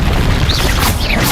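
A fire spell cast in the Hogwarts Legacy video game, a dense roaring whoosh with a booming low end that holds steady through the whole moment, with faint whistling sweeps riding on top and no talk.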